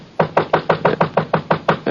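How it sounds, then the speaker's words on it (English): Heavy pounding on a wooden door as a radio drama sound effect, about ten evenly spaced loud knocks in a steady rhythm, close and alone with no talk. "I heard somebody pounding at the door."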